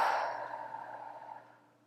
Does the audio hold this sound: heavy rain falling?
no